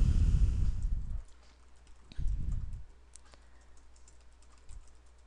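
Bursts of close keyboard typing on a computer, two quick runs of low clattering keystrokes with a pause between and a single soft tap near the end.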